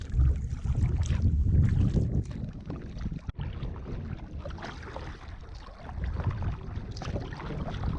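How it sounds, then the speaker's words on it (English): Gusty wind buffets the microphone while a kayak is paddled across a bay in Florida. It comes as loud low rumbles with faint watery swishes, and no one speaks. "we got back into that wind a little bit"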